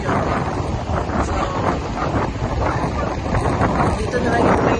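Strong outdoor wind buffets and roars across the microphone in continuous loud gusts by the sea in Aklan, Philippines, with no clear speech emerging above it.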